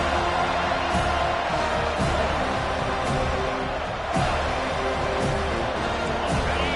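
A dense football stadium crowd at a Clemson versus FSU game roars and cheers steadily, a broad sustained wall of noise with swells, while a commentator's voice runs underneath.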